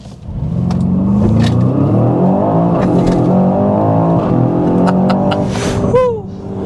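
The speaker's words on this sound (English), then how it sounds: "let's get a hard acceleration in this DBX 707" Aston Martin DBX 707 SUV under hard acceleration, a loud rising engine roar climbing through the revs for several seconds before easing off at the end, close and dominant.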